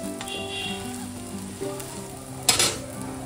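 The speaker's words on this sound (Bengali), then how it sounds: "এই পিঠটা একটু ভাজা হোক।" A flatbread roti fries in a pan at home, a steady, soft sizzle running throughout with a brief sharper hiss and crackle near the end.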